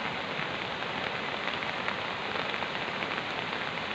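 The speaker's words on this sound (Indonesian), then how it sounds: "15 menit tadi sampai sekarang masih hujan gerimis." Light drizzling rain falls near the Boyong River on the slopes of Merapi, a steady, even hiss of fine drops with no voices.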